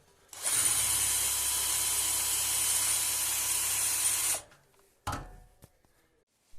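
A 12 mm bit bores into wood to recess a dowel head while fitting a Stover fireplace door, giving a loud, steady whirring grind for about four seconds, then a brief second burst after a pause.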